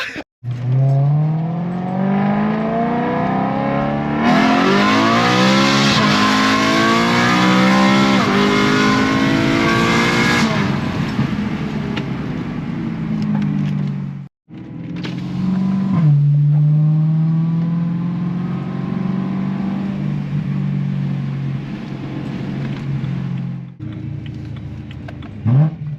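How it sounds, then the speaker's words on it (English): A 2011 BMW M3 E90 sedan's exhaust revs hard up close, loud rising and falling engine sweeps in two long bursts separated by a brief cut, with no talk. "let's get into the exhaust clips"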